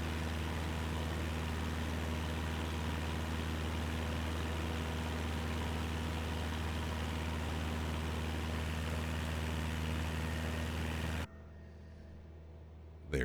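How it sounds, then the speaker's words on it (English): Aircraft engines in a flight simulator game drone as a loud, steady, tonal hum with a deep rumble, unchanging for most of the stretch before dropping suddenly to a much quieter hiss near the end. "those engine sounds are really loud"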